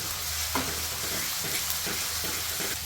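Ginger paste fries in a pan for chicken gravy, a soft continuous sizzle broken by a few regular stirring scrapes, fairly quiet and close, with no voices.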